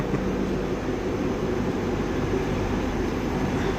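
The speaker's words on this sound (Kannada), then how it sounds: "ನಮ್ಮ ಟ್ರೈನ್ ಇವಾಗ ಗೋವಾ ಕಡೆ ಹೊರಡ್ತು" An Indian Railways train bound for Goa rumbles steadily with a broad, constant roar from inside, even and unbroken throughout, with no voices over it.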